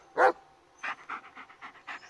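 A dog in the Blair Witch horror video game pants in a quick run of short rhythmic breaths after one louder huff, close and fairly quiet, with no talking.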